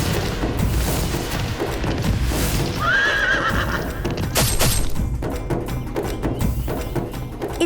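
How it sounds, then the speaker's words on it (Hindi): A horse gallops with steady, rapid hoofbeats throughout a mythological battle scene, letting out one clear whinny partway through, with occasional booming impacts around it. "इतना सुंदर अश्व, इसकी त्वरित गति तो दर्शनीय है।"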